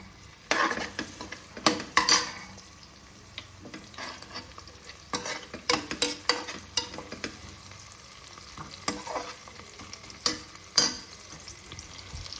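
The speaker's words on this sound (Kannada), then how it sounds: "ಕಟ್ ಮಾಡ್ಕೊಂಡಿರೋ 2 ಹಸಿರು ಮೆಣಸಿನ್ಕಾಯಿ ಹಾಕ್ಕೊಳ್ಳೋಣ" Chopped green chillies go into hot oil and turmeric as tempering for vegetable pulao, giving a steady close frying sizzle broken by repeated stirring scrapes and spoon knocks against the pan, with no talking.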